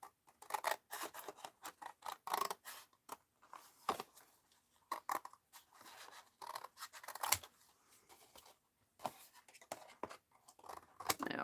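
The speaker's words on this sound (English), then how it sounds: "I'm just cutting off these flaps because they're in the way" Scissors snip through paper journal flaps in a quick irregular series of sharp crisp cuts, close and fairly quiet, with short pauses between bursts.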